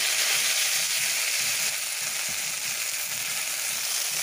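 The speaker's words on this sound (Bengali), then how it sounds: "ওই একই কড়াই সামান্য করে সরষের তেল দিয়ে ওর মধ্যেই শাকগুলো দিয়ে দেবো।" Bean leaves fry in a little mustard oil in a wok, giving a loud, dense, steady sizzle up close with soft stirring and no speech.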